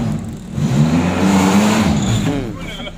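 A 2000 Daihatsu Espass 1.6 pulls away on a test drive, its engine note rising steadily and loudly for a few seconds while someone talks over it.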